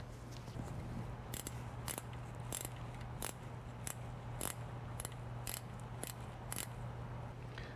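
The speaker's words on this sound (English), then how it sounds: "then I'll use a 14mm gear wrench to go ahead and spin back out the" A 14mm gear wrench ratchets out a differential drain plug on a Lamborghini Murcielago, giving a run of sharp metallic clicks in an even rhythm, close and fairly quiet over a steady low hum, with no talk.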